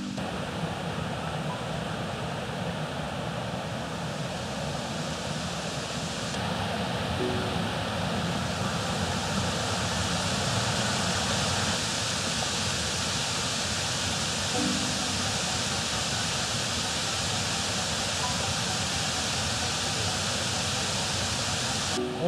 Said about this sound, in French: je trouve que cette cascade est magnifique